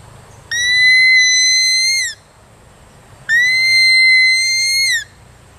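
A hunting call device sounds two long, steady whistle-like tones imitating a young deer, each lasting about a second and a half with a brief pause between, loud and close over a quiet background.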